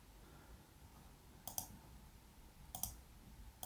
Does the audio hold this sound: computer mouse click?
yes